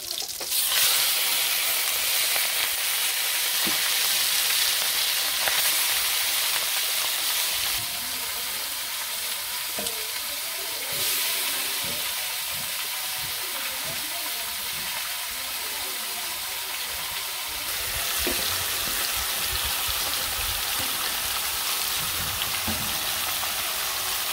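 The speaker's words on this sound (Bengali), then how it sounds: "কড়াই বসে আমি মাংসটা দিয়ে দিই" Meat fries in a hot kadai with a continuous bright sizzle and crackle. Occasional clinks and stirring sounds come through, and no one speaks.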